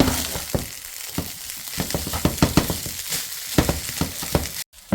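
Beef fried rice frying in a pan, a continuous sizzle broken by rhythmic scraping and tossing strokes of a utensil, close and fairly loud.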